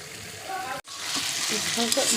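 Chowmein noodles added to hot masala in a pan, a close sizzle broken by a brief drop into silence, then rising again into steady frying with some light stirring.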